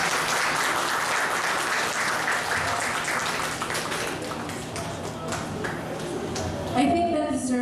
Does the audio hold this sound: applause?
yes